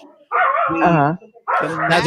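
Dogs playing together give two bursts of barks and yips, with whiny, yelping tones, loud and close in a quiet room.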